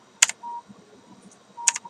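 Two sharp, isolated clicks from a computer keyboard key being pressed, about a second and a half apart, close and crisp in a quiet room.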